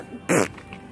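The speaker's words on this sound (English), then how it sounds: "You farted." One short, buzzy fart sounds close and loud for about a fifth of a second, followed by faint background noise.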